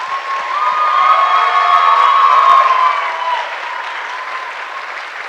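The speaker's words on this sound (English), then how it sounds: "truly deserve a big round of applause from all" An audience at an Arangetram classical dance recital in Louisville, Kentucky applauds dancers Ishani and Avika. The clapping swells to a full, sustained peak, then gradually thins while a faint ringing tone lingers underneath.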